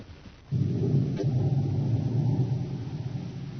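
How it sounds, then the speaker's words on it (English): Thunder rumbles through a storm in an old radio drama, a deep low roll that swells suddenly and lingers for several seconds, fairly loud and alone. "As the storm builds in violence, Buzz and Happy stand in the darkened office"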